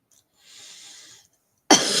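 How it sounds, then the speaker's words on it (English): A person coughs once, loud and close, a sudden harsh burst after a soft breathy exhale, with nothing else heard. "excuse my coughing"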